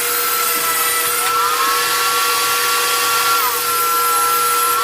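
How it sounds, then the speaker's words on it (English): A thickness planer feeds two 2-inch-thick wooden boards, producing a loud, steady, high-pitched machine whine close by, with a slight pitch shift as the cut load changes. "I'm planing 2 pieces that are 2 inches thick."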